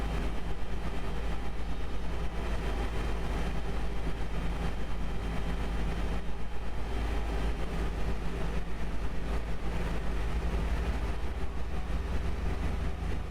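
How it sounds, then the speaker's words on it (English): Engine 2 of an Airbus A320 spools up in the Flight Factor A320 simulator, a steady broadband roar with a low hum that holds at an even level throughout and has no talking over it. "Get engine 2 fired up."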